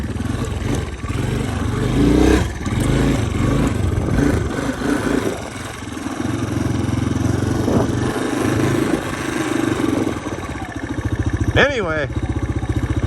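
A Honda Big Red 250ES engine runs on a chilly morning ride, giving a steady, fairly loud mid-pitched drone that rises and falls slightly. Someone talks over it throughout.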